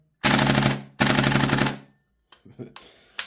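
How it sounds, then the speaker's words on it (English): A VFC HK53 gas blowback airsoft rifle fires two loud, close full-auto bursts of rapid rattling shots, followed by quieter mechanical clicks and handling noises. "Very responsive and full auto."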